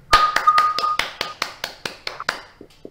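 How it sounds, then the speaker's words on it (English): A small audience claps at an award ceremony for a concept quad vehicle event, a dozen or so sharp, distinct claps in an uneven rhythm, close and clear, tapering off at the end. "a big round of applause for Akshat sir, please."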